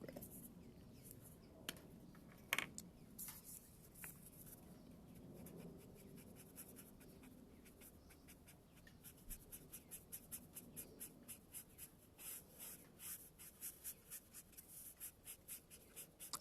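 A marker drags across paper while an illustration is coloured in cool gray, soft close scratchy strokes coming in quick repeated bursts, growing denser and more rhythmic toward the end, with no talking over them.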